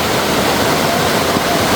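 Floodwater rushing across a submerged road near Vattappalai and Mullaitivu, a steady, loud broadband roar of flowing water filling the whole clip without pause, no voices over it.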